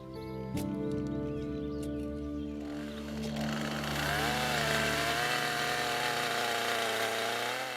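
A chainsaw run by prisoners on a farm in New Zealand, loud and continuous with its pitch rising and wavering as it cuts, over a low background hum.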